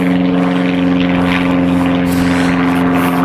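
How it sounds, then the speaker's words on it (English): Propeller aeroplanes from an airfield right next to the site drone overhead, a loud, continuous engine hum with a steady tone that persists throughout without pause. "Sorry about the aeroplanes in the background."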